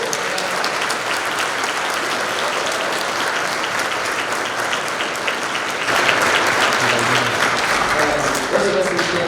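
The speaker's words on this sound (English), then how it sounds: "Give them another round of applause." Audience applause for students after a school band piece at a winter concert, with a dense wash of clapping that swells louder partway through and a few voices and cheers rising near the end.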